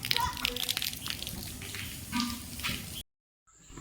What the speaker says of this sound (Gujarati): હવે માથેથી પાણી પડવા મળ્યું છે